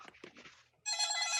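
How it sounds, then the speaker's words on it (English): A telephone rings during a mock draft broadcast, a loud steady electronic trill cutting in suddenly after faint muffled talk. "the phone is ringing"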